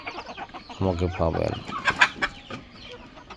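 Farm chickens cluck in short, bright bursts close by, with a voice talking over them.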